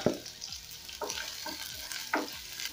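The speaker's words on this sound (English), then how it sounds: "I'm going to saute these onions before I can go in with my other ingredients." Onions sauté in a pan for goat curry, a steady close sizzle broken by periodic scraping stirs about every half second, with no voices.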